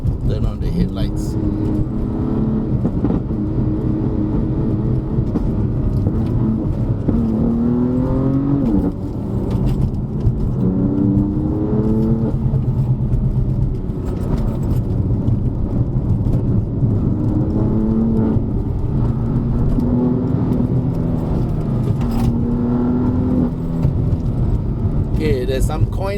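Steady engine drone from a BMW M4 being driven on a mountain road, with a faint stutter and gear-shift pitch sweeps over constant road and cabin noise; a voice talks throughout.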